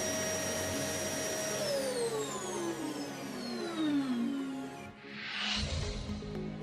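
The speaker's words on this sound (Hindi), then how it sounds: "और वैक्यूम क्लीनिंग द्वारा धूल इकट्ठा करें।" A vacuum cleaner runs continuously, its motor drone loud and close as it collects dust from a floor surface roughened for tile waterproofing, with the pitch sliding downward midway and a rushing whoosh of suction near the end.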